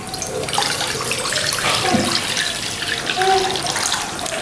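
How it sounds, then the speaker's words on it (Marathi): Water from a pot poured into a large wok on a gas stove, a steady, close splashing gush lasting the whole stretch. "त्यामध्ये ना आपण एक तांब्यावर आपल्याला पाणी घालायचं आहे"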